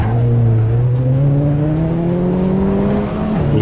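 An old race car engine failing in the Assetto Corsa video game, a loud, steady droning whine that slowly climbs in pitch, then stumbles and dips briefly near the end.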